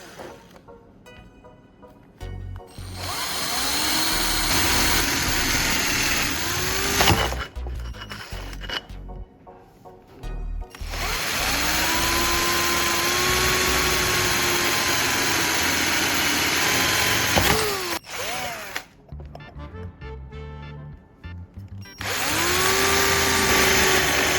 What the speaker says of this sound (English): Now I'm going to start drilling, taking it slow and steady